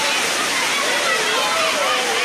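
Floodwater around a flooded home in Ghana makes a steady, loud rushing and sloshing wash that stays constant and close, with no break and no talking over it.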